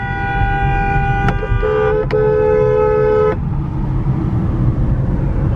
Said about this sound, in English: everybody's honking